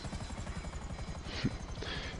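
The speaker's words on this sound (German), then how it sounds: "Ich glaube, Helikopter kaputt." The Buzzard helicopter in GTA 5 gives a rhythmic rotor chop with a turbine whine layered over it, throbbing steadily and fairly quietly.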